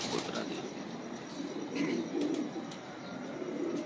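Champion pigeons coo in low rumbling phrases, several birds at once, moderately close amid a noisy, hissing background.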